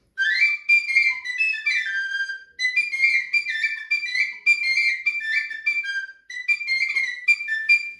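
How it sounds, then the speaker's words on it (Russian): A Ukrainian sopilka, a whistle flute with the whistle mouthpiece on the back, plays a bright, lively run of short ornamented phrases alone for eight seconds with only brief breaths between them. "украинские сопилки, они больше делают свистковое устройство на тыльной стороне"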